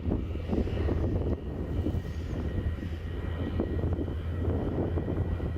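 A small airplane flies overhead during a moose hunt in the Manitoba wilderness, its engine drone steady and fairly loud throughout, with no voices.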